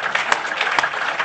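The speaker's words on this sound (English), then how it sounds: "Let's give her a big round of applause." Audience applause at a panel discussion on water and energy, a dense steady wash of clapping held at even loudness for just over a second.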